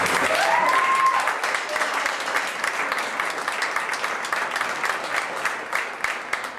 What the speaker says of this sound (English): Let's give them one quick round of applause.